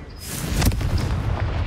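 A Confringo fire spell blasts in Hogwarts Legacy, a single booming explosion swelling at mid-clip and rolling into a broad, rumbling tail with no talk over it.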